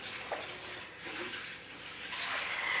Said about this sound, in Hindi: अब डाल देते हैं इसके अंदर हम पानी।